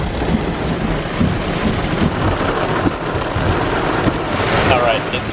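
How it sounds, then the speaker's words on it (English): Heavy rain pours down during a thunderstorm at a beach on Australia's east coast, with a steady roar of rainfall and low rumbling thunder close by throughout. "it's raining quite a bit and it's definitely stormy"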